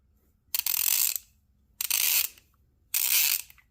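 A Craftsman V-Series ratchet with a dual pawl design clicks in three separate, evenly spaced bursts of fine, rapid ratcheting, close up and crisp against near silence.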